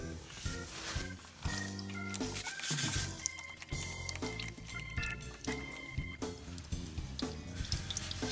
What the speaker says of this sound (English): Just let that finish draining.